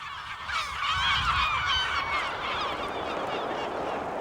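A dense seabird breeding colony on an island off Portugal at evening, a continuous chorus of overlapping honking, cackling calls at moderate distance, steady throughout without speech.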